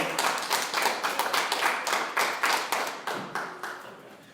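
A church congregation claps at a steady rhythm, about four claps per second, the sharp close claps trailing off toward the end, with no talk over them.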